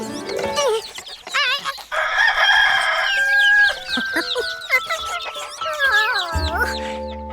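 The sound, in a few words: rooster crowing on a farm, cartoon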